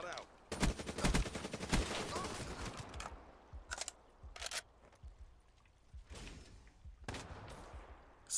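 Rapid bursts of gunfire from a shooter video game played through an Astro A40 headset, loud clustered volleys at first, then sparser single and short bursts with gaps between.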